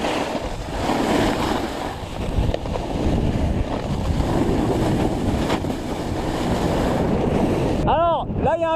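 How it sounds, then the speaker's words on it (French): Strong, blustery wind on a ski slope at La Clusaz rumbling across the microphone, continuous and loud, with a brief whistling tone near the end. "Alors là il y a un peu de vent"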